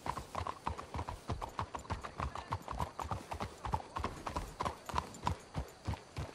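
Horses' hooves clip-clop in Red Dead Redemption 2, a steady, brisk rhythm of close, clear hoofbeats that carries through the whole stretch with no talking over it.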